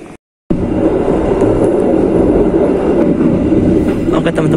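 The Serayu passenger train pulls out of Ciamis station with a steady, loud, close rumble of rolling wheels and carriages, broken by a brief cut near the start.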